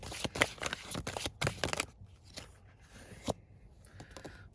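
Tarot cards riffled and shuffled in quick bursts, then single cards slid and drawn with soft papery scrapes, close and fairly quiet, with no talking.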